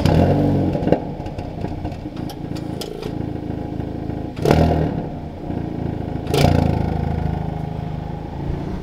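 A Hyundai Veloster N with original exhaust revs up and idles nearby, loud engine drone broken by two sharp blips of throttle, with some clattering in between.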